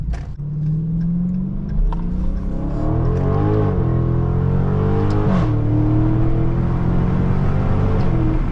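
A 2023 Dodge Charger Scat Pack Widebody pulls hard under acceleration, its deep engine note climbing steadily in pitch through the gear with a loud, continuous heard-from-inside roar and a brief shift partway through.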